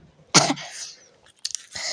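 A woman coughs sharply once, close and loud, followed by a short throat-clearing rasp and another breathy cough.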